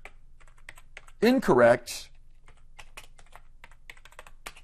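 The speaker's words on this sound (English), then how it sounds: "Double click to select the text inside and type" Keys on a computer keyboard tap in a quick, steady run of close clicks, with one short spoken word partway through.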